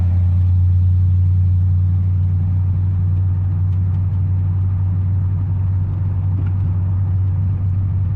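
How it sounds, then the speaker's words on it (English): Ford F-150 street truck, an OBS-generation build, holding a steady, loud, deep engine roar and rumble during a burnout for about eight seconds with no voices. "See if we can catch this one tire on fire."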